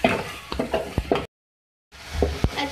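Spices with coriander powder roast in a pan for brown lentil daal, with close scraping stirs and soft knocks of a utensil, broken by a brief silent gap.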